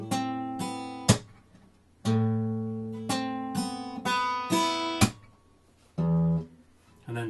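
Electric guitar plays measure 10 of a song slowly, a run of slapped and open notes with sharp percussive attacks, some notes ringing out, some gaps between phrases, close and clear with no talking.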